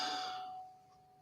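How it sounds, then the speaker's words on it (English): A meditation bell rings once, its bright tone already fading into a thin sustained hum that lingers softly and decays toward silence. "sound of the bell"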